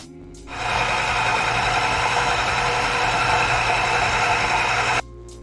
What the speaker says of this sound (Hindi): अच्छी तरह चॉपर में डाल के इसको चॉप कर लूँगी, बिल्कुल एक स्मूथ सा पेस्ट बना लूँगी